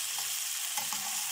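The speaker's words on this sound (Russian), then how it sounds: "Обожаю жареную картошку именно в этом рыбном приятном масле." Potatoes frying in fish oil in a large pan, giving a steady, even hiss and crackle of sizzling fat heard up close with no talk.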